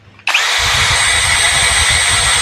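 A TOTAL TCKLI1638 16-volt cordless drill kicks on abruptly and runs at speed setting 2 with a loud, steady high-pitched motor whine that continues unbroken to the end.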